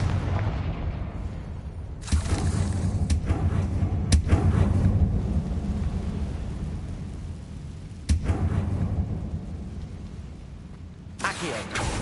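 Hogwarts Legacy Confringo explosion spell bursts several times, sharp booming blasts at irregular intervals over a low rumbling game background.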